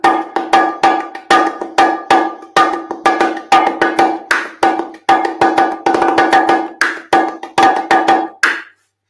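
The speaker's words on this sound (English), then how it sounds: "the bongos are just that high punchy sound" Hand-played bongo drums give off a quick series of high, punchy, ringing strikes in lively uneven rhythm, each hit sharp and close with a brief bright tail, played alone.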